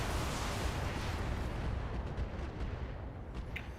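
Heavy weapon fire in a BattleTech mech game aimed at enemy turrets, a dense continuous roar of booming blasts and rumbling explosions, loud and close, fading a little toward the end with no voices.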